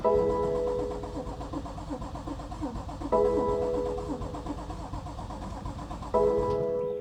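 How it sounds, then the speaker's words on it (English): A BMW F82 M4 engine cranks repeatedly in three separate attempts, each a rhythmic whirring burst, without catching into a steady run. "I'm about to go start this car."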